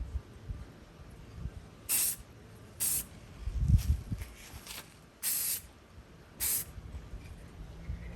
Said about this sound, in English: So I'll spray.